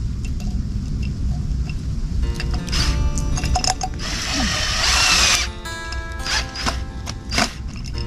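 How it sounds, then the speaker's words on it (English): A camera mount screwed onto a tree trunk outdoors gives a run of close, rough mechanical whirring and ratcheting clicks, rising to a louder grinding stretch midway, with steady low background rumble and no talk. "So this piece screws right into this after you get it on the tree."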